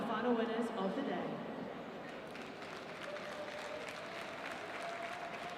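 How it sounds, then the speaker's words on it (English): A crowd applauds the final winners of the day at an equestrian event's evening party, loud clapping that settles into a steady sustained patter under light background talk. "A massive round of applause for our final winners of the day."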